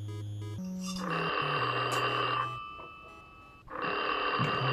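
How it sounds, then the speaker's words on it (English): A telephone rings in the video game Dream Therapy, a steady electronic ring that starts after a short stretch of music, pauses briefly and then comes back, loud and close, with no talking over it. "The phone's ringing."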